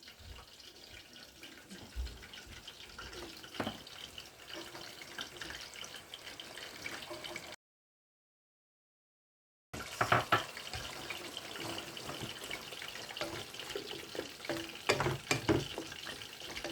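Coconut milk pours into a pot of chicken cooking with pineapple, a soft liquid rush and sloshing heard close up at low level, broken by a brief silent gap before the pouring and stirring noise resumes.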